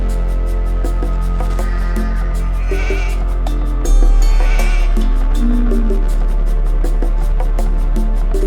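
Sheep bleat repeatedly in the Age of Empires II HD video game, their calls overlapping above a steady loud game soundtrack with regular ticking clicks, and no talking.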